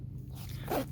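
A zipper on an Eagle Industries BeaverTail Assault Pack is pulled in one quick, close zipping stroke against a low background hum.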